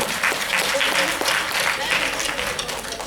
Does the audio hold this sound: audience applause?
yes